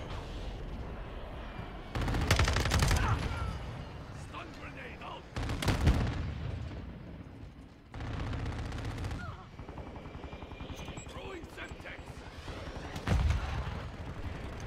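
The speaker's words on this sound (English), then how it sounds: "Stun grenade" Combat in Modern Warfare 2 with a stun grenade going off among repeated bursts of gunfire and explosive blasts, several loud hits spaced a few seconds apart over a fainter, busy background.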